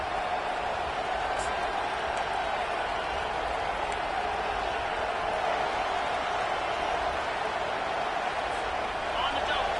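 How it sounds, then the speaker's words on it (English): A packed football stadium crowd at an EMG versus Nebraska game roars in a steady, dense wash of noise that fills the whole stretch without letup, with faint announcer-like voices underneath. "This crowd, full throat, splitting the eardrums and letting them know it's going to be a long day."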